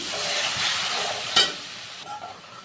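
A Kashmiri chilli, turmeric and salt spice mixture sautéing in a pan for a chhana curry, sizzling softly, then a sudden brief hiss as a cup of water goes in, fading to quieter bubbling.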